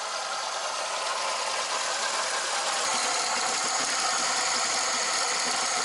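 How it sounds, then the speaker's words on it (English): A warm Ford Transit engine idles steadily just after a carburetor repair, a constant mechanical drone with a faint rattle running throughout, close and fairly loud, with no talk. "So this is a normal idle."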